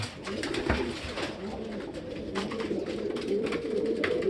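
A racing pigeon hen named Masbate coos softly in a loft, low repeated cooing over a steady background hum with scattered faint clicks and rustles.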